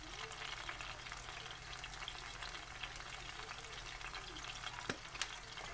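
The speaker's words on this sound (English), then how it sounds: "in the pan I'm gonna put some oregano leaves, just a little bit" Oregano leaves fry in a pan, a soft continuous sizzle with faint crackles and a couple of small clicks from a utensil near the end, quiet and steady without speech.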